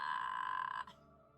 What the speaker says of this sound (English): Shut up, phone.